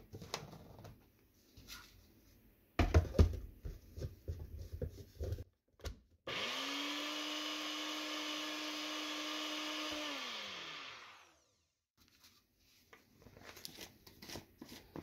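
A countertop grinder milling dried spent brewing grain into finer flour runs loud and steady for about four seconds with a high whine, then winds down to silence, framed by scattered tapping and handling noises.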